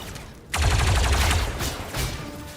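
Rapid bursts of gunfire from the Star Wars: Zero Company video game, erupting suddenly after a quiet moment and rattling on loudly as a dense volley that briefly eases, then flares again near the end.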